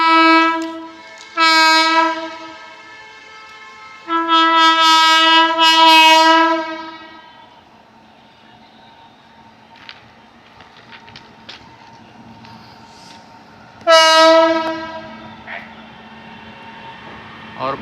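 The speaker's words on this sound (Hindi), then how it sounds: "लोग को बराबर हॉर्न दे रहा है" An Indian Railways train horn near Sitapur sounds in several long, loud harmonic blasts to warn livestock on the tracks, two close together, a longer pair, then another after a pause, over rumbling rail noise.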